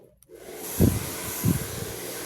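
A hair blower drying hair gives a steady, close airy whoosh throughout. Its tone briefly dips twice as the airflow shifts, and it starts after a short quiet moment.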